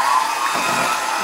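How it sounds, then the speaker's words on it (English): Steady loud motor whir of a kitchen mixer blending Italian Christmas cookie dough with liqueur, running continuously and close without a break. "And then you mash with the machine. This you blend a little bit with the machine"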